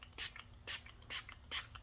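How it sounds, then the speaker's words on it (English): Small spray bottle misting water onto tissue paper during a craft session: four quick, soft hissing pumps in an even rhythm, close and quiet, with nothing else heard. "So now I just have a little bottle of water that I'm gonna spray."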